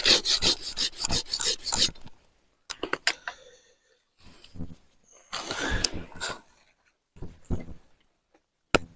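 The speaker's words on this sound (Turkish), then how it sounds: "Şuradan bir daha kesiyorum." A blade cutting through a plum tree stem for grafting, in bursts of rapid scraping strokes, then short pauses and more close, dry cutting rasps.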